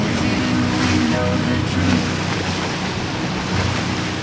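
A sailboat runs fast down the coast in an offshore breeze, water rushing and hissing steadily against the hull with wind noise throughout, close and continuous.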